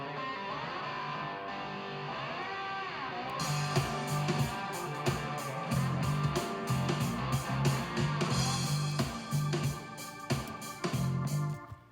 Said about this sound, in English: the drums, the bass, the organ, and whatever I play for the morning jam. So this is the scratch track here.